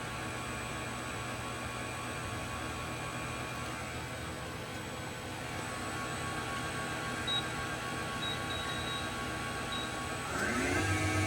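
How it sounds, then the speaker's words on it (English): A 2022 Southwestern Industries TRAK TRL 1630RX CNC lathe with ProtoTRAK RLX control runs its spindle at 500 RPM, making a constant low hum and faint tonal whine that stays steady with no speech. "Spindle at 500 RPM."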